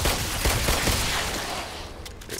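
Dense, sustained gunfire from the VR shooter The Brookhaven Experiment, a loud rapid stream of overlapping shots that thins out slightly toward the end, with no talking.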